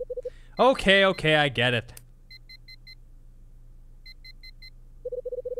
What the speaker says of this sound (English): Guess the only way to stop that damn beeping is to get up and hit it myself.